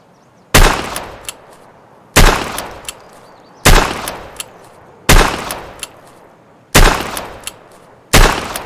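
Six loud, evenly spaced .357 Magnum shots from a Chiappa Rhino revolver fired single action in the Escape From Tarkov video game, each a sharp bang with a short decaying tail, about one and a half seconds apart.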